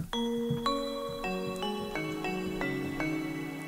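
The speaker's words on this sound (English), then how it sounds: "The French Doggy says trap bells" Bright bell tones strike one after another in a descending sequence, each ringing out and sustaining with a soft, reverberant shimmer.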